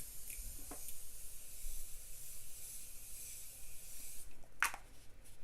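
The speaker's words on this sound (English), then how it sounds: "now I'm going to go in with my Morphe Continuous Setting Mist" Morphe Continuous Setting Mist sprays as a long, soft, fine hiss lasting several seconds, followed by a brief sharper spritz, close and fairly quiet.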